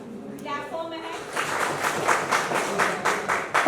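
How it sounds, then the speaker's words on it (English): An audience at a university Earth Day event applauds a student, a steady patter of claps rising after a brief spoken line and continuing through the clip at moderate volume. "Clap for Mehek."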